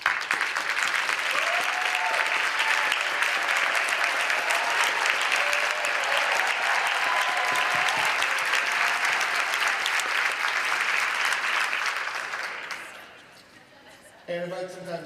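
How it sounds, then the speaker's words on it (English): An audience at the Main Street Now conference breaks into loud, sustained applause that fills the hall, then tapers off near the end as a voice begins speaking. "Let's give you a round of applause."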